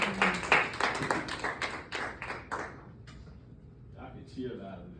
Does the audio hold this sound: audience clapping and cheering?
yes